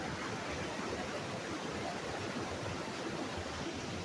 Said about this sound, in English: that's how the waterfall is